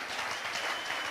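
A church congregation applauds during a service, a dense, steady wash of clapping that fills the brief moment on its own.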